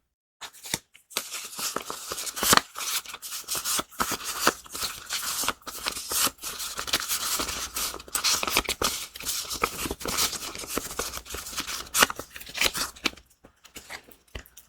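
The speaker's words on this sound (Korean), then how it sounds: "이 두 개 카드 중에 이제 재물운과 성장운이 있는데 다리가 되어줄 카드 하나를 뽑아보도록 하겠습니다" Tarot cards being shuffled and drawn in a quiet whispered ASMR-style reading, close crisp flicks, riffles and soft slaps of card stock in uneven bursts, with no voices heard.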